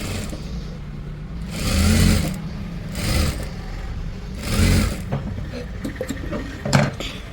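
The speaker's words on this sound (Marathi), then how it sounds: "पुढच्या पण शिलाई मारून घ्यायची पट्ट्या" A sewing machine stitching strips for a blouse runs in three or four short whirring bursts close by, with quieter handling and rustling noises between them.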